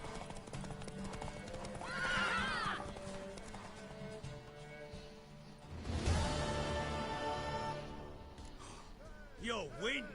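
In Witcher 3, a horse clip-clops along and lets out several clear whinnies, one loud neigh near the end rising above game music and background voices.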